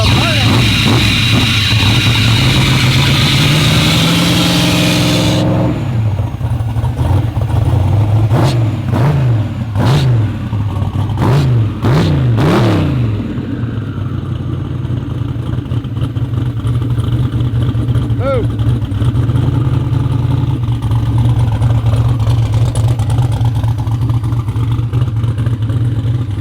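A 1500hp twin-turbo street car engine with a crooked exhaust idles roughly, then gets blipped in a series of sharp revs before settling back to a steady, loud idle.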